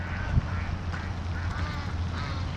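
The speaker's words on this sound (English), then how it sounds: "We feed the ducks with bread." Ducks quack at a pond in an RV park in Texarkana, several nasal quacks close by over a low background hum, arriving in quick overlapping bursts.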